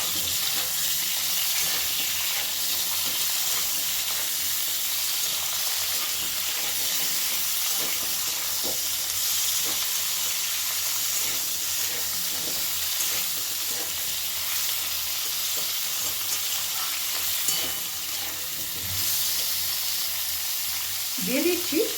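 Cut banana stem (thor) frying in a pan while being stirred for labra, a steady bright sizzle and hiss with occasional scraping stirs, a brief voice near the end.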